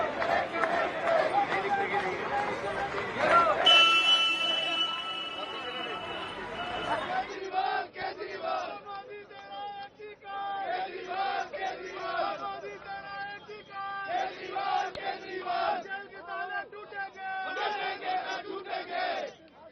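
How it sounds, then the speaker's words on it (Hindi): Aam Aadmi Party workers massed outside Tihar jail raise loud chanting slogans and shouts, a dense crowd roar in rhythmic surges, with a brief bright burst early on and voices calling over the din. "इस वक्त तिहाड़ जेल के बाहर का नजारा, ये आम आदमी पार्टी के कार्यकर्ता हैं"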